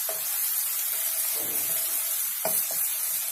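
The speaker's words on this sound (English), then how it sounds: "We want these chilies to fry a bit." Paste of green chilies, ginger and curry leaves frying in a pan, with a steady close sizzle and a few brief stirring scrapes.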